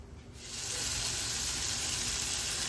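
Garlic and onions fry in a covered pan on high heat, giving a steady close sizzle that swells quickly and holds.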